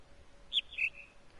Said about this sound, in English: I'll just let the bird play again.